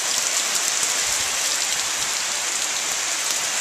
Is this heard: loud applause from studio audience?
no